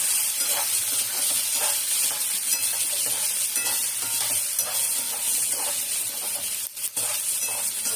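Coriander, green chillies, tomato and tamarind sauté in a pan for chutney, giving a steady loud sizzle and hiss broken by soft scraping stirs throughout, with no voices.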